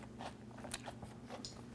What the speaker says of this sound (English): Oh my gosh, and it's crunchy and tastes great.